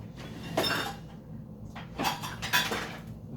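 Kitchen spatulas and turners clatter as they are picked up and handled, producing a few scattered metallic clinks and knocks against a quiet room.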